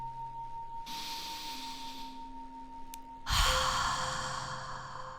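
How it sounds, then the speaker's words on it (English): Someone takes a deep breath before writing, a soft airy inhale and exhale rising out of quiet room noise, close by and without speech. "take a deep breath"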